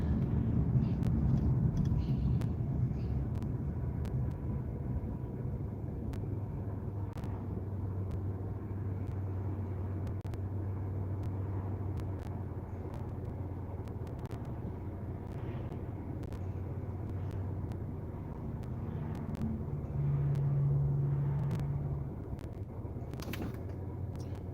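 Steady car interior rumble while driving in stop-and-go traffic, a continuous low drone with gentle swells and a brief louder hum near the end, no clear talk.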